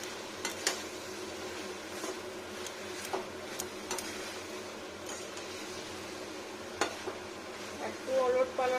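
Moringa flowers fry in ghee while a spoon stirs them, a soft, low sizzle punctuated by scattered clicks and scrapes against the pan, with a brief clatter near the end.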